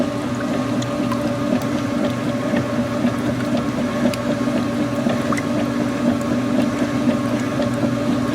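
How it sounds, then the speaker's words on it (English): An older washing machine drain pump runs at low speed, a steady droning hum with liquid churning and gurgling underneath and faint clicks, continuous and fairly close, with no talking. "this machine has the older drain pump, so even on low speed, it's got that awesome, like, you know, in the background"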